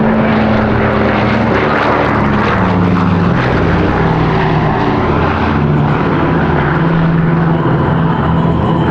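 A World War II B-24 bomber from the Commemorative Air Force flies by with a loud, continuous multi-engine propeller drone, throbbing and harmonic-rich, steady and close throughout the nine seconds, with no voices.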